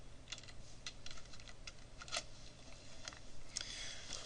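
Typing on a computer keyboard to enter a search, with quiet, irregular clicks of keys scattered across a few seconds and one denser burst near the end, steady faint background hum beneath.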